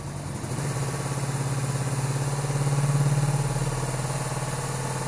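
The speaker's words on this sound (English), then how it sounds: "So it does have a little bit of a finicky idle, but uh, it is working." A cafe racer motorcycle engine idles roughly and a little unevenly after an engine cooling rebuild, a close, steady low thrum with a slight swell in the middle, running alone with no talk.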